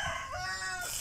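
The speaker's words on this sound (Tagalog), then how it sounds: "panay ang huni ng manok din eh" A brief chicken call, like a short crow, sounds against a noisy outdoor background.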